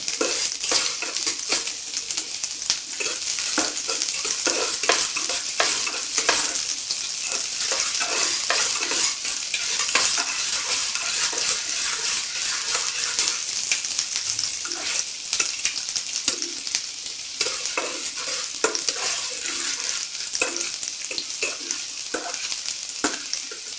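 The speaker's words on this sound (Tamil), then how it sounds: "வெங்காயத்தை ஆட் பண்ணிவிட்டு இதையும் நெய்யில் போட்டு நல்லா வறுத்துடுறோம்" Chopped onion fries in ghee with a loud, steady sizzle while a utensil keeps stirring and scraping it in the pan. The sound runs on without a break, close up and with no talk.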